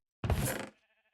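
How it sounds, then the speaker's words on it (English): A single short sheep bleat from the video game Minecraft, fairly quiet and alone, trailing off into a faint wavering tail. "We're just gonna farm the sheep."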